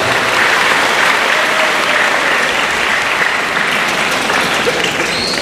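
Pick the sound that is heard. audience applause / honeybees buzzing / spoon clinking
audience applause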